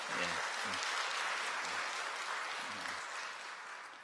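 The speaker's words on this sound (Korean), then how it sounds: "여러분들 건강하게 다녀올 수 있도록 박수 부탁드립니다" Church congregation applauds during a Sunday worship service, a dense steady wash of clapping lasting several seconds, with murmured voices underneath, gradually thinning toward the end.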